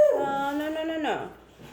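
Dogs whimper and yip at home, a high wavering whine that rises and falls for about a second before trailing off, with a voice faintly under it.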